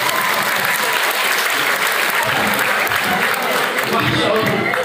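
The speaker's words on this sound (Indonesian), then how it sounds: "Tepuk tangan untuk kita semuanya." An audience at a campus motivational seminar claps loudly and continuously, a dense sustained wash of applause filling the whole stretch.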